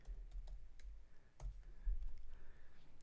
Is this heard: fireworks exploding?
no